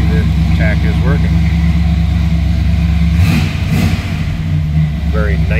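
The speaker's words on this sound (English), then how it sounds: "Very nice sounding and running car." A 1939 Plymouth two-door street rod engine runs close by, with a steady, even idle and a brief dip in tone partway through; a few short voice fragments sit over it.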